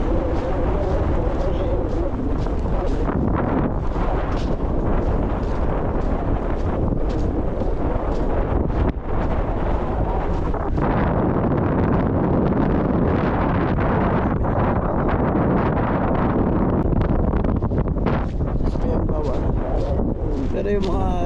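Strong wind in Bahrain buffets the microphone throughout, a constant loud roaring rush with gusty surges, and a voice speaks underneath it.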